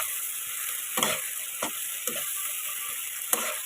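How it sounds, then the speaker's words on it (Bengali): Spice paste (masala) sizzles softly in oil in a pan for an egg and eggplant dish, with several distinct scraping stirs of a spatula breaking through the steady hiss. "মশলাটাকে কষানোর জন্য 5 মিনিট হতে দেবো"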